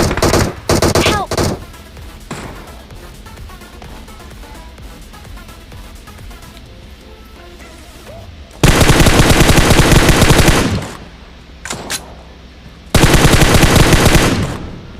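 Automatic gunfire sprays an enemy in a video game during a rush near a bridge, with a short burst at the start, then two long, loud, close sustained bursts later, separated by quieter stretches.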